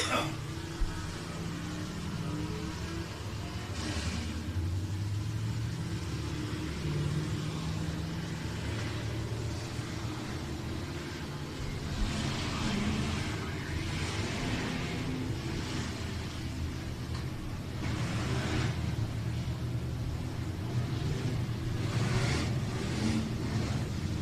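Race car engine at Whynot Motorsports Park, Meridian, Mississippi, running steadily with a low rumble and throaty drone throughout, moderately distant, with crowd or announcer talk over it.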